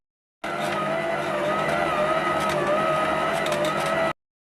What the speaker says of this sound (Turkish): Ve şöyle unumu ilave ediyorum ve makineyi çalıştırıyorum.